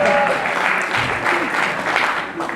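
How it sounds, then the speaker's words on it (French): A crowd applauds at the FIFIGROT 2019 film festival awards ceremony, steady dense clapping filling the room throughout, with faint voices mixed in beneath. "une foule qui applaudissait et qui applaudit encore"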